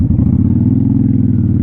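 Honda Shadow motorcycle engine running steadily up close, a deep, even low rumble with a dense pulsing texture throughout, loud and alone with no talking.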